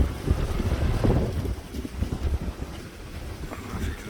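Wind buffets the microphone near a homemade wind turbine, a loud low rumbling roar with gusty swells and no talking.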